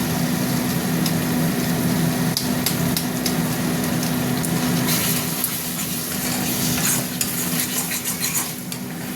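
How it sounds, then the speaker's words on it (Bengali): Spices frying in hot oil for a Bengali omelette curry, a steady dense sizzle with a spoon scraping and stirring against the pan, close and continuous, with no talking. "মশলাটা আবার কষবো, কষে তারপরে একদম কষা হবে মশলাটা।"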